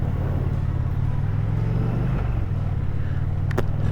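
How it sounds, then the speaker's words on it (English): A 2024 Harley-Davidson Road Glide motorcycle being ridden, its steady low engine rumble loud and close throughout, with a brief sharper noise near the end. "here is me riding a 2024 Road Glide"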